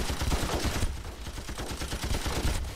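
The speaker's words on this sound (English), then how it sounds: "Back to machine gun." Automatic machine gun fire in the video game Ravenfield, a dense, rapid, continuous burst of shots at steady loudness throughout.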